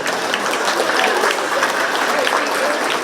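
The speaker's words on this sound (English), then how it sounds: "give her a round of applause" Audience applause for a percussionist at a school winter band concert, a loud, dense, continuous patter of many hands clapping in a hall, with faint voices mixed in.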